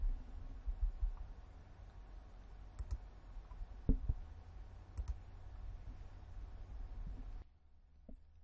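Sparse computer mouse clicks sound while Save is clicked in Broker Back Office software: a few crisp, isolated clicks over a low, steady room hum that drops away near the end.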